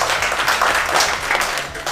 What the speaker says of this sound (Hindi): एक बार मैम के लिए जोरदार ताली बजा रहे